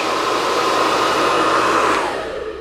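An ionic hair dryer blows steadily and loudly at close range while hair is brushed smooth with a paddle brush, its broadband whoosh holding constant before easing slightly at the end.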